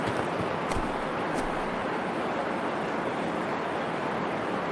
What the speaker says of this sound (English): you can hear the rain.